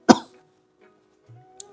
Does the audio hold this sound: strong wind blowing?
no